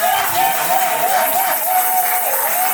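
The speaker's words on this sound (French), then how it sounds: "Tous ensemble, à nous honorons l'Éternel avec les acclamations." A church congregation at a seminary service applauds and cheers in a steady, dense wash of clapping and crowd noise, with a sustained tone running underneath the whole time.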